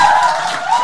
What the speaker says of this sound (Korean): 오, 이런 박수 뭐지?